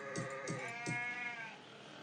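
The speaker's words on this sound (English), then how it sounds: "Come here, sheep." Sheep in a video game bleat in quick succession, three or four short wavering baas, close and fairly soft, followed by one longer quavering call; no one speaks over them.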